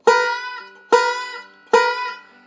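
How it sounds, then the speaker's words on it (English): Three banjo notes, each picked sharply and then choked so the pitch bends up as it rings, played solo at a steady pace with no talking. "So we pick it before we choke it,"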